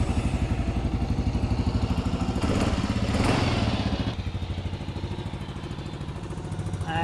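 Kawasaki KLR650 Adventure motorcycle engine starting and settling into a close, steady single-cylinder idle with a rapid, even thumping pulse and a brief revving swell.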